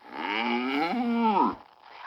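A single long, drawn-out cow moo, loud and close, with a falling pitch at the end, heard alone.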